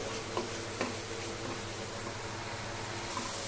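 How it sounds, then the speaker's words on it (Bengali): Radhuni spice mix for a chicken roast frying in a pan, giving a soft, steady sizzle at low level with a couple of faint stirring clicks. "এখন আমি মশলাটাকে সুন্দর করে ভেজে নিব"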